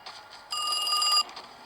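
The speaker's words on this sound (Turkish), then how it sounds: "Telefon çalıyor." A telephone rings once in a SpongeBob horror video game, a bright bell-like burst lasting under a second over a quiet background, with no talking.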